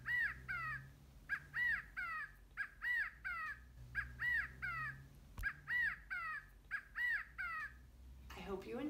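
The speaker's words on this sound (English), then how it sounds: "I wanted you to hear the sound that quails make." California quail calling in a desert setting, a clear repeated series of sharp, rising-falling calls in a steady rhythm, fairly close and alone over a faint low hum.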